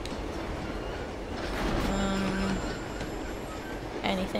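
Train ride in the video game Uncharted 2: a steady rumbling, clattering rail noise with faint tonal squeals, continuous throughout at moderate loudness.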